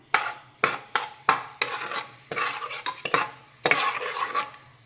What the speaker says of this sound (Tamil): தாளித்து எண்ணெயை காய விட்டு இந்த பவுடரை போடுறேன். அதை பிரட்டணும்.